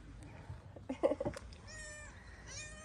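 A cute cat meows near a parked car where food is kept, giving one short, nearby cry in the middle, followed by faint higher mewing and soft background rustle.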